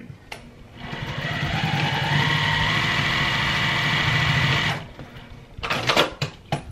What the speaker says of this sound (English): we're gonna sew away again. Back stitch.